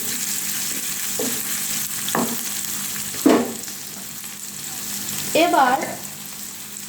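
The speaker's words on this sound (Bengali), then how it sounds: "হালকা বাদামি বাদামি করে পেঁয়াজগুলোকে ভেজে নিব।" Onions fry in oil toward light brown, giving a continuous near sizzle punctuated by a few spatula stirs and scrapes, with one short spoken word.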